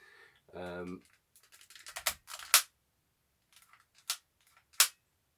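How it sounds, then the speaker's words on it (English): The toggle lock mechanism of a Tokyo Marui Luger airsoft pistol being cocked, sharp metallic clicks and snaps, loud and close, after a brief spoken voice near the start. "Cocking the gun, it has a proper toggle lock mechanism."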